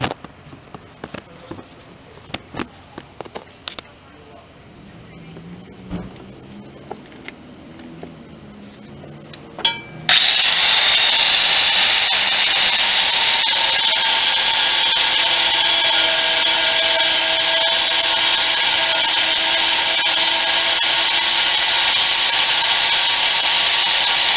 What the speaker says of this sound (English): Got one more bolt right there. I'm gonna cut the head off.